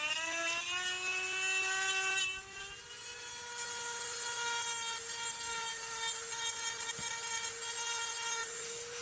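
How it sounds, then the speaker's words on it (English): A Dremel rotary tool fitted with an engraving bit whines steadily as it grinds material from the inside of a Corian knife handle on a Camillus M3 trench knife, its high pitch dipping briefly under load before holding a continuous close, loud tone. "I got an engraving bit for my Dremel tool that worked really well for removing the material from the inside there"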